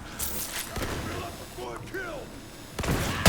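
Gunfire in the video game Borderlands 3 during sniping, a few loud cracks and bursts spread across the moment, with a voice talking in between.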